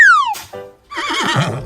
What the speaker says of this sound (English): Horse. 2 horses.